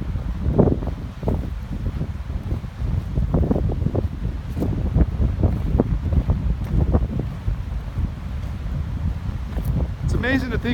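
Strong gusting wind at Big Bear Lake, California, during a high wind warning, a loud continuous roar buffeting the microphone throughout.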